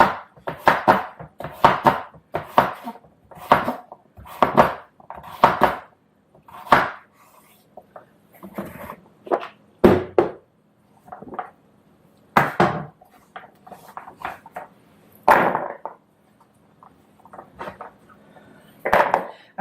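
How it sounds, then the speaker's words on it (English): Knife chopping sweet potato into bite-sized pieces on a cutting board: loud, close, irregular thuds and crunches, bursts of quick cuts separated by short pauses, with no talking. "now we want to cut them up into bite-sized pieces"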